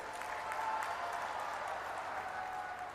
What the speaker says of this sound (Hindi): जोर से ताली बजाइए जरा